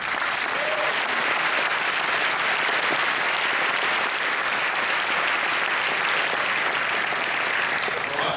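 Sustained applause from a large audience at a film premiere, steady and loud throughout with no breaks.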